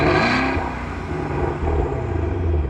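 A tuned Porsche Panamera GTS engine revs and settles, a close, deep rumbling roar that dips in the middle before swelling again.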